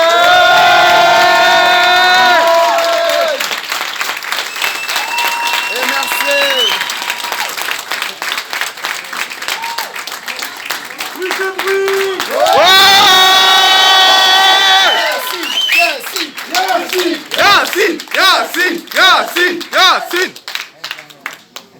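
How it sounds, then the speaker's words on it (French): An audience applauds and cheers loudly as a young performer is welcomed on stage at a promotional event in Nantes. Whoops and music rise over the clapping, which swells twice and then thins out. "Merci de m'aider d'accueillir avec une forte main d'applaudissement"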